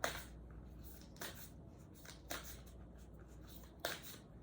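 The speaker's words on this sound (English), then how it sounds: "I haven't shuffled these in a while." A deck of tarot cards is shuffled by hand, giving soft, scattered riffling and papery slaps that recur every second or so over a faint, steady background hiss.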